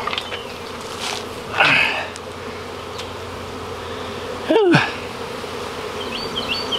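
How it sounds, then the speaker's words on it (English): A swarm of bees hums around a bee tree outdoors, a steady close buzz with individual bees swelling louder as they fly past the listener twice. "Seems like the bees are just steadily piling up over there"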